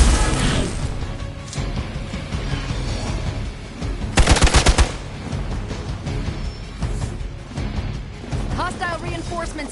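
Rapid automatic gunfire from the video game Marvel's Midnight Suns, with scattered shots and a loud burst of repeated fire midway, mixed with game sounds and voices talking over the action.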